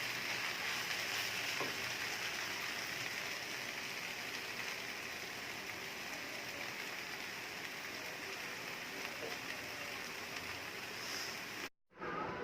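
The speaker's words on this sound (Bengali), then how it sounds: "এখন আমি মশলা সবজি এবং সব কিছু খুব ভালো করে মিক্স করে নেব" Spicy chicken vegetable noodles stir-fried with spices in a pan, a steady even sizzle running throughout, moderately faint, ending in a brief cut near the end.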